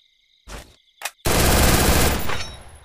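Automatic gunfire crackles in a battle royale video game: two short bursts, then a sustained loud volley of rapid shots that runs on and slowly tapers.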